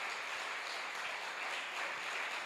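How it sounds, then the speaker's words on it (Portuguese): A church congregation claps steadily and evenly, a dense wash of applause that holds at the same level throughout without any voices. "Você pode aplaudir ao Senhor"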